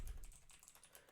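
Quick typing on a computer keyboard, a steady run of light, close key clicks with no voices.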